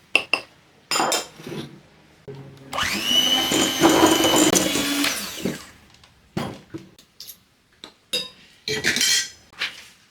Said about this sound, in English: We'll also cream our butter and our icing sugar.